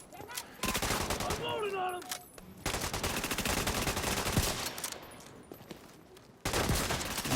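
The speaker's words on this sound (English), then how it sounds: "I'm gonna have to shoot at this guy here." Sniper rifle fire in The Division 2 video game, with loud bursts of gunfire and combat noise filling most of the stretch, broken by brief quieter gaps.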